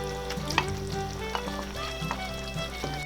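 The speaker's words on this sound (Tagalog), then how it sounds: "Lulutuin lang po natin yung ating patatas at saka carrots." Potatoes and carrots frying in a pan, with steady sizzling, a few stirring scrapes and clinks, close and continuous with no talking.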